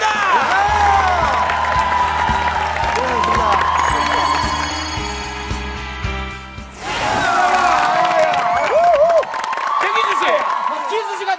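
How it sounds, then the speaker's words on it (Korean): Studio audience on a Korean variety show applauds and cheers for a jump-rope team, sustained loud clapping and whoops with music underneath, swelling again after a short dip. "박수를 부탁드리겠습니다"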